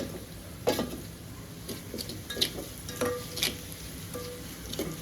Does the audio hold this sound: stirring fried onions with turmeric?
yes